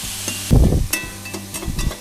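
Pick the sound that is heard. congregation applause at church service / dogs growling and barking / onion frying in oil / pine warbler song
onion frying in oil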